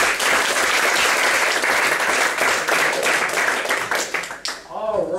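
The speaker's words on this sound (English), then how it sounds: "Please give yourselves a really good round of applause." Loud, dense applause from a seminar audience fills the room steadily, thinning briefly near the end before rising again.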